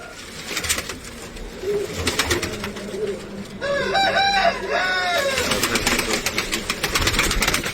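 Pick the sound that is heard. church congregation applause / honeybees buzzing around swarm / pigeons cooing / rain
pigeons cooing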